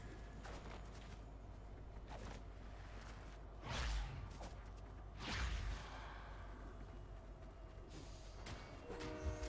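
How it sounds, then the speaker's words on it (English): A train in the video game Fortnite rumbling past in a steady, loud roar, with two louder whooshing surges along the way and a horn-like tone near the end, no voices over it. "Do you want to hop on the train and go to the underworld?"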